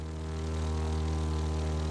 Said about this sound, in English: Orient your plane with one wing pointing straight down and you've got it.